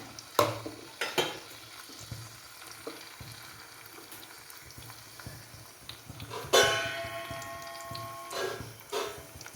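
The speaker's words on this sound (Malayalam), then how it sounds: "എണ്ണ ഒഴിച്ച് നമുക്ക് ഉള്ളി ഇട്ട് കൊടുക്കാം." Onion and curry leaves fry in oil: a moderate sizzle runs throughout, punctuated by several clattering scrapes and knocks of a spoon against the pan, with a louder burst of spitting partway through.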